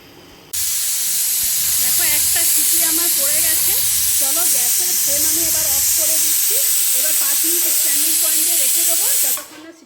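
A pressure cooker holding a red curry of young goat meat lets out a loud, steady hiss of steam that runs almost unbroken for nearly ten seconds, with faint tonal sounds drifting underneath.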